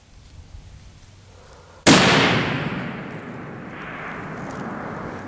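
A .338 Lapua Magnum rifle fires one sharp, loud shot at a 1,000-yard range, and the blast rolls out into a long, decaying rumble outdoors.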